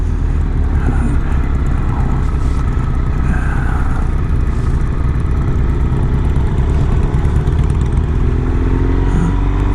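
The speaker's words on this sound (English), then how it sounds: "It's quite amazing how fast the motorcycle responds." A BMW R1200 RS motorcycle on the move, its engine droning steadily and loudly alongside constant wind rush, with no break in the sound.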